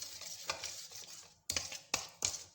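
A yogurt mixture for steamed chicken is stirred in a bowl, heard as a few distinct, close clinks and scrapes of a spoon against the sides, with quiet gaps between them.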